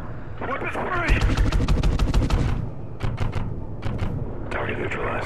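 Rapid, dense gunfire from the Call of Duty Ghosts video game, with bursts of automatic shots and booming impacts crowding the opening seconds, followed by sparser sharp shots.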